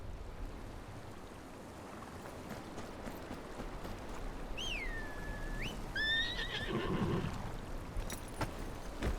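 A horse whinnies loudly twice midway through, over a steady rushing outdoor background, with faint hoof clatter afterward, in the video game Game of Thrones: Kingsroad.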